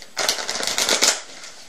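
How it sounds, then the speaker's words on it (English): A pack of playing cards being shuffled by hand during a card trick, a dense burst of quick riffling clicks lasting about a second, close and fairly loud, with no talking. "shuffle the pack"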